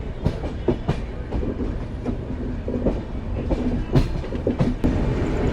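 An express train running from Amritsar to Bandra Terminus, Bombay, heard on board as a steady rumble with rhythmic clickety-clack wheel beats over the rails, fairly close and with no voices.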